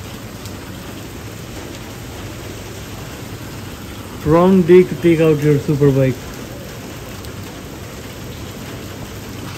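Steady rain falls outdoors as a constant hiss throughout, with someone speaking briefly over it midway.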